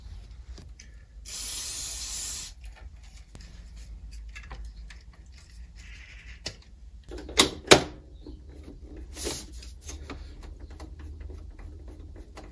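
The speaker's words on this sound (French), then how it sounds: "Je vais passer un coup de bombe juste au niveau des connecteurs" Aerosol cleaner sprayed onto the connectors of a Commodore 1084 monitor, a loud hissing burst lasting about a second, then later two shorter, fainter sprays among sharp clicks and handling knocks in a quiet room.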